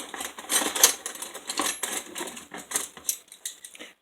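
Metal silverware clinks and jangles in quick, irregular bursts as the utensils are handled and gathered during dishwashing, close and fairly bright, with no talking.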